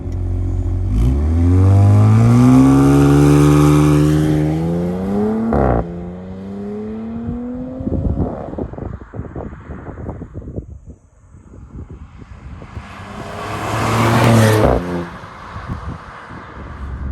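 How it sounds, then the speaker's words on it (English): A 2020 Audi S6 exhaust swells loudly as it revs, its pitch climbing across the first few seconds. It drops to a lower steady drone, then gives a rougher crackling stretch and a second loud surge near the end. "We're gonna get a clip now of that exhaust quickly for you, throw it in now."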